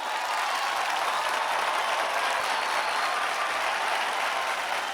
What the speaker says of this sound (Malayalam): ഇവർക്ക് വേണ്ടി ഒന്നുകൂടി കൈയടിക്കൂ ഗൈസ്